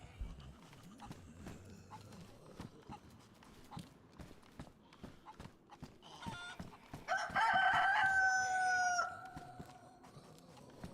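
A rooster crows loudly in a rural setting in the survival video game DayZ, one long rising call over scattered footsteps and faint ambient noise.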